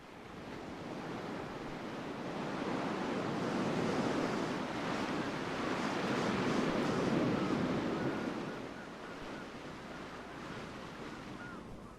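Ocean surf surges against a rocky shore in a continuous roar that swells and eases over several seconds, heavy and close with some wind noise and no talking.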